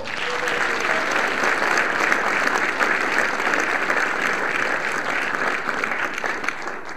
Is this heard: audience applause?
yes